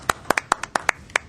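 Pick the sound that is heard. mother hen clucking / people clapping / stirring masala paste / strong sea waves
people clapping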